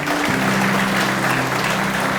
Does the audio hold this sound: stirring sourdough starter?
no